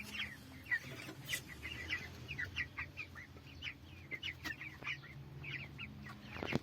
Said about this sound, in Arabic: تعالوا بقى مع بعض كده نشوف الفراخ بتاعتنا